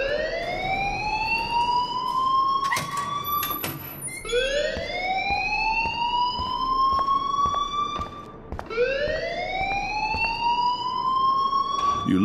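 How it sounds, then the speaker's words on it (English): A school alarm in the video game Life is Strange wails loudly in repeated rising sweeps, each cycle lasting about four seconds, with no talking over it. "please turn off that alarm since that's your"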